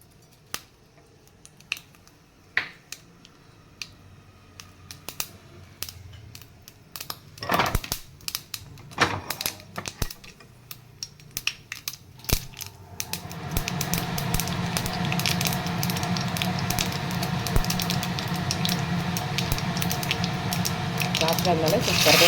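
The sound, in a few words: mustard seeds spluttering in hot oil in a kadai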